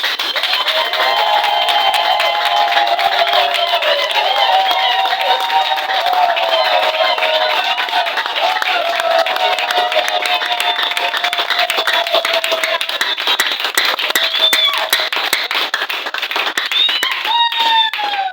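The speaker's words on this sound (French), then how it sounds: "Alors, on peut applaudir très très fort." A large crowd claps loudly and continuously at an investiture ceremony, dense applause sustained throughout with a steady roar of hands.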